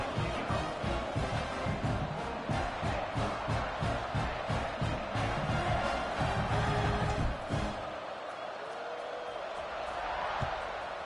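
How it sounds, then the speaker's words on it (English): Football stadium crowd buzzes loudly after a score, a dense, sustained roar with rhythmic thumps and chanting that drops sharply toward the end into a quieter hum with occasional voices. "this crowd is buzzing after that last score"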